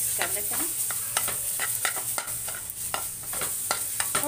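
A spoon stirs roasted gram flour mixed with coconut and sugar in a pan, quick scraping strokes repeating in an irregular rhythm over a soft sizzle, close and clear.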